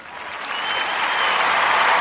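A crowd at a music career tribute and Grammy celebration breaks into applause, clapping swelling quickly from a light start into a full, steady ovation.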